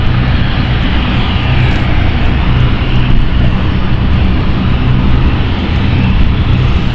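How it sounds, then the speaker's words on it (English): A Swiss Airbus A220 jet taxiing at London City airport gives a loud, steady engine roar with a broad rushing hiss that holds evenly throughout, with no voices. "Swiss taxiing away here with the Airbus A220."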